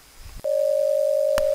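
A single steady electronic phone tone sounds alone and fairly loud, starting after a brief click and holding unbroken to the end, with a short tap partway through.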